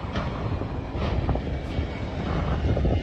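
A steady, loud roar of an airplane flying overhead, a broad continuous engine rumble with no break and no talking.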